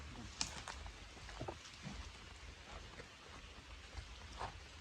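Light rain begins pattering on surfaces outdoors, a soft steady hiss with scattered faint drops and a low background rumble, no voices in the moment.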